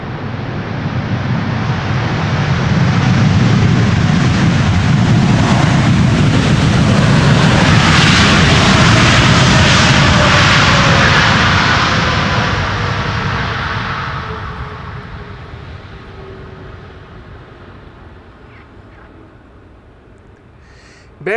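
An airliner landing on the Polderbaan runway 18R at Amsterdam Schiphol, a loud broadband jet roar that swells, holds with thrust reversers engaged, then fades into a lower rumble as the aircraft slows, heard from outdoors.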